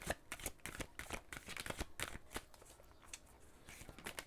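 Tarot cards are shuffled by hand in quick, crisp riffling flicks and slaps, a close, busy flutter with irregular rhythm and no talk.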